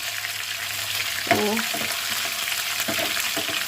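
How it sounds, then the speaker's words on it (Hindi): Steady sizzling of onions frying in hot oil for a dal tempering, with a few stirring scrapes and clinks partway through. "प्याज का तड़का जो दाल के लिए हम बना रहे थे वो रेडी हो चुका है।"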